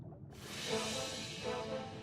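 Rushing water of a waterfall where salmon leap upstream, a steady broadband roar that swells in after a brief quiet start and holds loud and close throughout.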